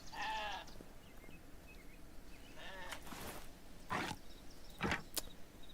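Sheep bleat in the video game Hytale, several short cries spread through the clip, with crisp clicks and whooshing effects in between and a voice speaking briefly.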